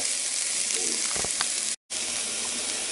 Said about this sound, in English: heat it up in a frying pan over medium, medium high heat